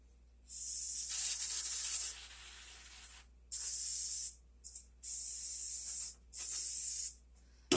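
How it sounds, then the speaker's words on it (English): Cooking spray hisses onto a disposable aluminum pan from the Dollar Tree in four separate bursts, each a second or so long with short pauses between, close and sharp in a home kitchen. "we're going to get our pan and spray it."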